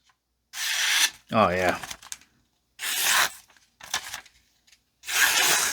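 An Ocaso Solstice EDC knife with a harpoon blade profile slices through material in several separate rasping, tearing strokes, close and fairly loud, with a brief spoken exclamation between cuts.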